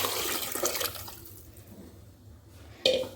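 Water poured from a tumbler into sautéed rice and dal in a cooker, a close splashing gush at the start that fades, then a second short splash near the end.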